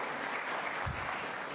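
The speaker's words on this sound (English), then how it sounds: "Let's give it a big round of applause." Audience applause at a commemorative event on the legacies of John F. Kennedy and Robert F. Kennedy, heard as a steady, fairly faint wash of crowd clapping with no distinct individual claps, a brief low thump partway through.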